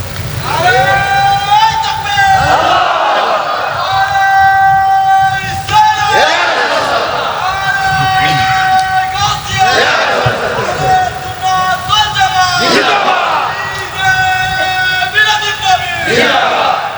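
A large crowd at a Milad-un-Nabi religious gathering in Bangladesh shouts a takbir chant in unison, loud rhythmic bursts repeating several times in call-and-response fashion.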